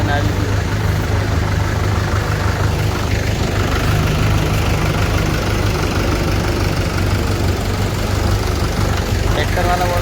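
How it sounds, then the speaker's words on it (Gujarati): A loaded tractor at a drainage line construction site idles with a heavy, steady diesel rumble and knocking chug, loud and close for the whole stretch, while people talk nearby over the engine. "એક બીજું ટ્રેક્ટર ભરાઈને આવી ગયું।"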